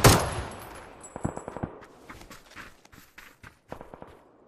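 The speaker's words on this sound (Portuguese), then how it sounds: "Tiro de longe, tiro de longe." Distant gunshots crackle in a PUBG match, a loud burst at first followed by scattered faint pops and clicks, with quiet player movement sounds between them.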